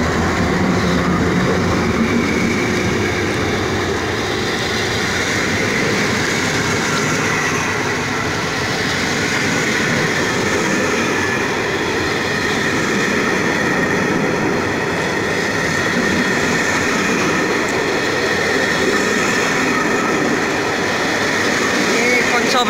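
A seven-car passenger train hauled by an EP07 electric locomotive rolls past Janowice Wielkie station with a loud, continuous rumble and rattling wheels that stay steady throughout.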